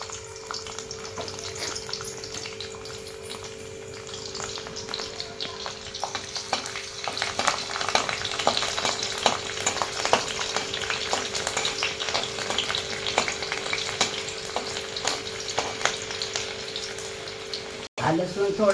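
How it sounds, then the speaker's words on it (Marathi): Chopped garlic frying in hot oil for a Marathi hadga flower vegetable dish, a steady close sizzle and crackle that grows busier as it goes, with a soft steady hum beneath. "आता हे तेल गरम झालेलं आहे. त्याच्यात आपण प्रथम छोटे छोटे काप केलेले लसूण टाकून घेऊया."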